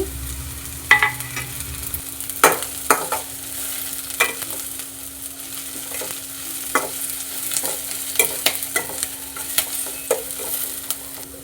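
Onions, curry leaves and green chilies fry in a pan for village-style tamarind rice, a steady soft sizzle punctuated by sharp scraping stirs and spoon clinks at irregular intervals, close and without talk.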